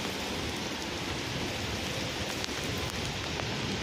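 Heavy storm rain in Dubai pours steadily as a dense, loud, unbroken hiss, with a few sharper drops striking nearby surfaces and no voices.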